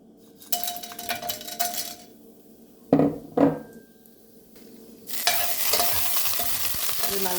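Whole spices fry in ghee in a pan, a soft sizzle punctuated by two sharp clinks of a utensil against the pan, then a louder, steady sizzling rush as more goes in.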